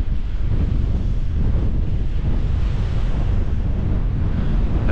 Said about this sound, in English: We've got about 30 mile an hour winds out here now.